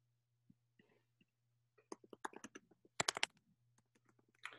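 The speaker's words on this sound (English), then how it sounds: "Type that in real quick." Keys on a computer keyboard clatter in quick irregular bursts, with a dense flurry of clicks in the middle, over a low steady hum in a quiet room.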